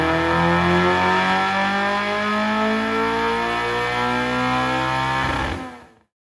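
A Honda K24-swapped car with an RSX base 5-speed gearbox and a 4.76 final drive revs hard on a dyno, its engine note a loud, sustained buzzing drone that holds at high revs for over five seconds before cutting off abruptly into silence.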